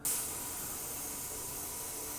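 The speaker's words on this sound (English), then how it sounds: "spraying clear lacquer over top of a model" Spray of clear lacquer over a Gundam plastic model kit: a steady hiss, starting with a brief louder burst and then continuing evenly with no pauses.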